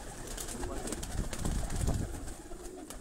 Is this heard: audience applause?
no